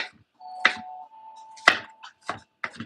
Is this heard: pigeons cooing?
no